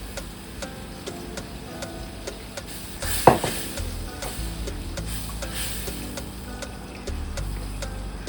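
Grated onions and Maggi seasoning sizzle in a pan, with a steady frying hiss, a sharp scrape near three seconds and soft stirring clicks throughout.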